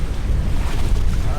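Strong tailwind of about 20 knots at sea aboard a sailboat, a steady low rushing roar of wind buffeting the microphone mixed with water noise, continuous and loud with no talk.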